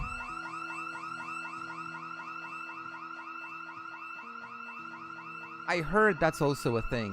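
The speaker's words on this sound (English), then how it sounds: "So much more frequent house alarm" A looping electronic house alarm in a multiplayer survival video game wails steadily in repeating warbling tones, loud and continuous, until a voice briefly talks over it near the end.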